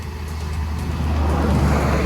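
An Arrma Limitless RC car with a Castle 1721 motor on cold 8S batteries makes a speed-run pass: a brief, loud whooshing roar that builds steadily and stays dense with no voices.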